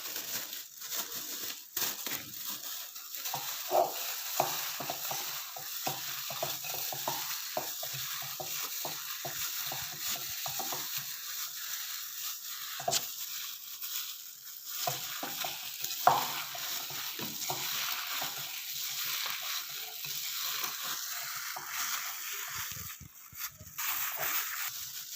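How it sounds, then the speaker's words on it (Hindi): Bread pakora batter being mixed by hand in a bowl, a continuous wet squelching and scraping with small clicks and crinkles, close and steady for the whole stretch, no talking. "तो अब इन सारी चीज़ों को हम अच्छी तरह से जो है वो मिक्स कर लेते हैं।"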